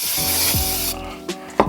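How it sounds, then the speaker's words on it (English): Brake cleaner hisses from an aerosol can onto an engine piston during a Mazdaspeed engine build, a steady loud spray that cuts off, followed by a couple of short clunks and rubs. "So I just spray brake clean everywhere."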